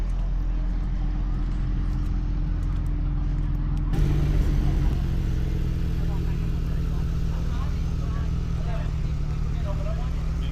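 Porsche cars lining up for a parade in Eureka Springs, Arkansas, their engines idling and rumbling steadily nearby, with a closer engine note swelling partway through while people talk over the noise.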